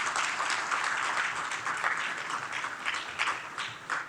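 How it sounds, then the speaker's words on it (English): Town hall audience at Bowie State gives sustained applause, a dense, bright clatter of many hands that swells and fades slightly while staying loud throughout. "So let's just give them another round of applause if we can."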